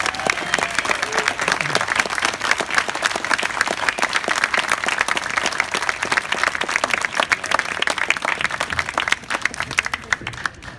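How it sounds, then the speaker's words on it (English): A crowd at an arts center fundraising event claps steadily and densely for about ten seconds, loud and sustained with no break. "may I ask for a round of applause in their honor"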